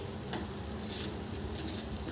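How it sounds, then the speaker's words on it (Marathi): Ghee sizzling steadily on a hot pan, a dense continuous crackle and hiss at close range with no voices over it. "असं छान दोन्हीकडून व्यवस्थित खूप छान तूप लावा"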